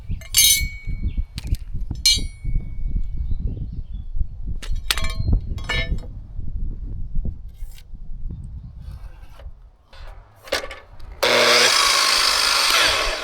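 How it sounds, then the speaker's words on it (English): A chop saw powered from a solar generator cuts timber for a water-storage canopy, with scraping and knocking handling sounds and clinks throughout, then a loud steady whine of the saw running near the end. "got the chop saw out, and then I ran into a bit of a problem when I used the chop saw."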